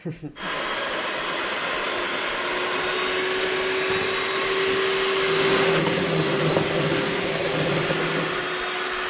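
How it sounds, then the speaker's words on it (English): An electric mixer beats egg whites until stiff for a chocolate cake, a loud steady motor whine with a sustained hum and slight pitch rise midway, close and continuous throughout. "we have to beat them really well until they are very stiff"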